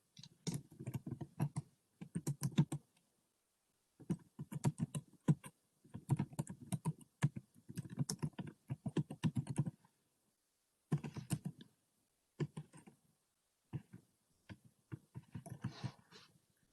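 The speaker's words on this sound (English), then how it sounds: "I'm going to go ahead and type that in the chat" Quick bursts of keystrokes on a computer keyboard, typed in short clustered runs separated by brief pauses, close and clear with no talking.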